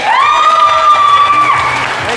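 A family audience gathered for a surprise celebration of a brother coming of age in Ashtarak cheers and whoops loudly and steadily for about two seconds, with shrill voices carrying over a dense crowd noise.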